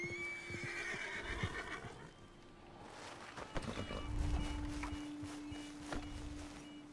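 A horse in Red Dead Redemption II lets out a loud, drawn-out whinny near the start, with hoof clops, footsteps and low game ambience following.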